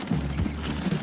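Horse hooves clip-clop steadily in Transport Fever 2 as a horse-drawn delivery moves along, a close, even rhythm of hoof beats with no talking.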